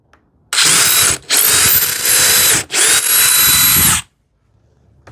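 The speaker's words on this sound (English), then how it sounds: "I have to do like enough countersinking from other side." A power drill countersinks holes in a wooden TV-unit piece in three loud, close bursts of whirring, each separated by brief pauses, then stops.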